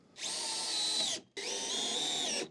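A power drill drives a 3.5-inch screw into a fresh piece of wood in two steady whining bursts, each about a second long, with a short pause between them. It is close and loud, with no talk.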